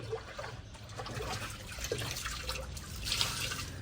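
Water is emptied from a washing tub used for laundry in a village, a soft continuous trickle and drip with faint splashes that stays low and steady throughout.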